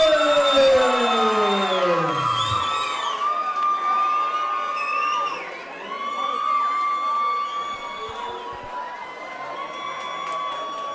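Arena crowd at a hybrid boxing league bout roars and cheers for local Thai boxer Jake Saunders, loud and sustained with shouts and whistles, easing slightly midway before swelling again.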